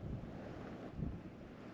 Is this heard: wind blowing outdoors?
yes